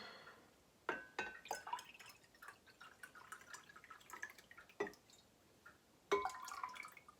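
Kombucha pours into a glass jar with quick splashes and soft fizzing crackle, a few sharper drips and glassy clinks standing out over a quiet, close background.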